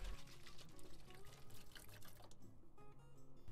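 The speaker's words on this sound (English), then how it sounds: "Finish by cleaning this off with some hot water, while also filling up the bottle with water." Hot tap water running into a plastic PET bottle, a steady close rushing and gurgling pour that continues throughout at low volume.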